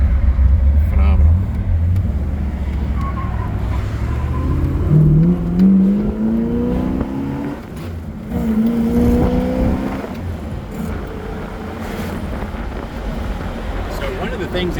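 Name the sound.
1967 Pontiac GTO accelerating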